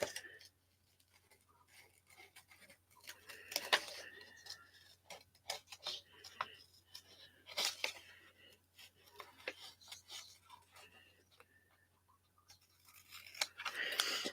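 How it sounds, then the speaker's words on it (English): Scissors cutting paper during scrapbooking, soft close snips and crisp slicing sounds coming in short bursts, with quiet whispered talk between them. "These are not the fussy cutting scissors"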